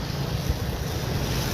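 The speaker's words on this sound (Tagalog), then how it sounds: "Kaso lang malakas talaga yung tubig, umapaw." Strong floodwater rushing from an overflowing deep creek, a loud continuous roar and hiss with steady low rumble and no pauses.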